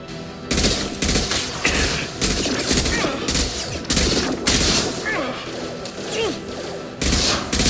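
Rifle gunfire in the video game Mass Effect 2: loud, close shots repeat at a steady rhythm, each followed by dense combat noise and rumble, with no pause throughout.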